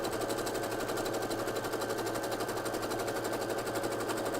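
A sewing machine runs a zigzag stitch with a cording foot, a steady fast mechanical chatter at close range with a regular stitching rhythm and no talking.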